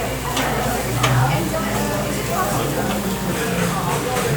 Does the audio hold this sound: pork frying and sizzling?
yes